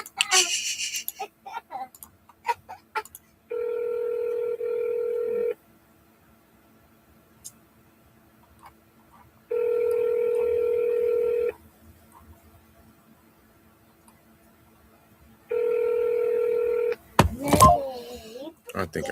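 DTMF-style dialing gives way to three long, steady ringback tones on an outgoing call, each about two seconds with quiet gaps between, then a short burst of noise at the end.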